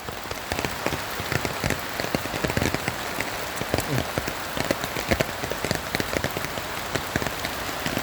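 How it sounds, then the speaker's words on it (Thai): Heavy rain pours steadily through a forest during a mushroom-gathering trip, a dense, loud hiss of drops hitting leaves and ground throughout, with occasional louder splatters. "อันตรายพี่น้องฟ้าลงฝนตก"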